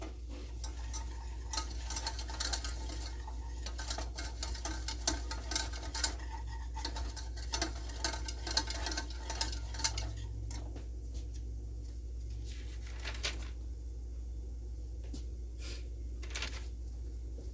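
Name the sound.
stirring flour into a roux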